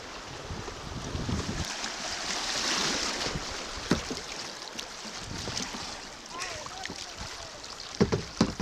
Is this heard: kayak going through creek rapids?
yes